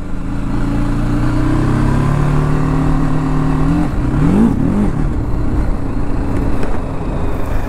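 Motorcycle engines roar hard during a drag race between a TVS Apache RTR 310 and a Royal Enfield Continental GT 650, the revs climbing steadily before a gear shift midway, loud and continuous without talk.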